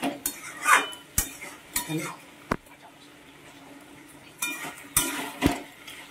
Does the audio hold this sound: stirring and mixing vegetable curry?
yes